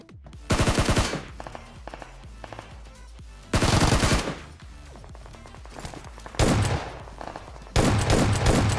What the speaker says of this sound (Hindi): और फिर साइड में भैया फायरिंग होने लगती है